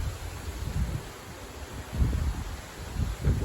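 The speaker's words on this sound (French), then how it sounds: "Ce gros coup de vent avant les orages" A strong gust of wind rushes in just before summer thunderstorms, a low rumbling buffet that swells and eases in surges, loudest around the middle and end, with no voices.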